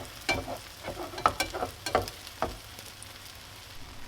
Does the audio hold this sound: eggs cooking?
yes